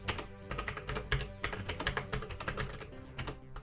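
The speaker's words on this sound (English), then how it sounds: "the noise from the keys is quite loud" Fingers clatter across the keys of a ZX Spectrum computer keyboard in quick, irregular bursts, each keypress a sharp, loud click, close up with no talking.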